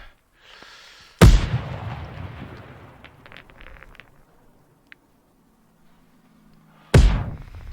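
Two loud, close grenade blasts in the tactical shooter Ground Branch, each a sharp boom with a rumbling tail, separated by several seconds of quieter debris and ambient noise.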